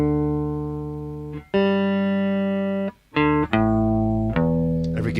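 A guitar is tuned with buzzy, distorted sustained tones that hold, drop out, then shift to new pitches in a halting sequence, loud and close with no speech.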